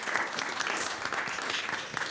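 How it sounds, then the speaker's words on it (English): Sustained audience applause fills the room at a live talk event about army life, the AIDS crisis and advocacy, dense and steady throughout without pause. "Can we just give a massive round of applause for these two?"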